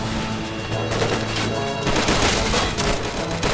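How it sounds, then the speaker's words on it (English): Handmade mortars firing in a toy war battle, a dense, continuous barrage of sharp pops and bursts that stays loud and close throughout, with no talking. "Comes the handmade mortars. Hand mortars."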